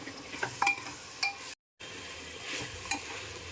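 Keema sizzling and frying in a pan with hari mirch, coarse coriander and garam masala, with scraping stirs and a few spoon clicks over a soft continuous sizzle; a brief dropout interrupts midway.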